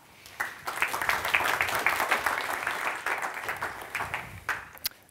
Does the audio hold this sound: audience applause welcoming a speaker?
yes